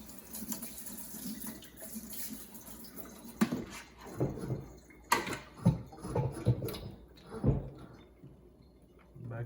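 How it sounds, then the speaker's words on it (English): Tap water runs and splashes over a plumbing fixture being rinsed after a vinegar soak, with irregular bursts of splashing and clatter that rise and fall, fairly close and moderate in level. "Now let's go ahead, rinse it off really quick."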